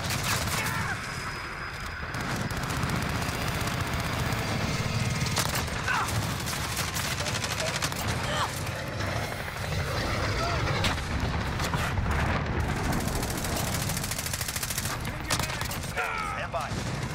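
Heavy battlefield gunfire from air support in the Call of Duty Warzone video game, with dense sustained bursts and booming impacts that stay loud throughout while voices speak over the din.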